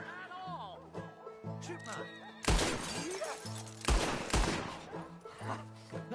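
Sharp gunshots and glass shattering as bottles are shot in Red Dead Redemption 2, a few loud cracks amid spoken dialogue and a background music bed.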